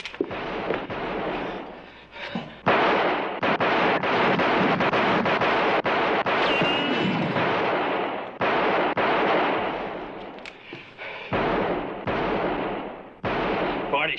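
Gunfire in a 1961 western film: a rapid series of loud, close shots and volleys cracks out in clusters with brief gaps, blended with rough wind-like rumble.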